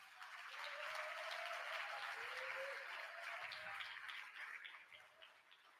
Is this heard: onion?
no